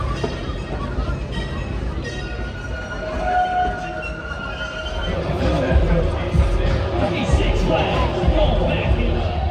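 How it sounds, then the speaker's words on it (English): A small amusement park train at Six Flags rumbles past with a steady loud clatter and some squealing, while people talk nearby throughout. "That was a cute little train. Not super scenic and very loud, but a cute little train."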